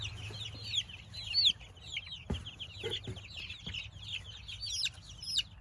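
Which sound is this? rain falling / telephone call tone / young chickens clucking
young chickens clucking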